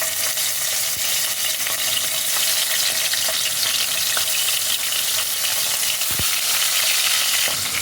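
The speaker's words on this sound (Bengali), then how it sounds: "বেশ ভালোভাবে কড়া করে মাছটা ফ্রাই করব।" Tangra fish frying in hot mustard oil in a kadai, a loud continuous close sizzle with crackling bursts and a few sharp pops, no voices.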